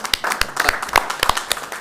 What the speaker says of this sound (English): applause for Cynthia one more time.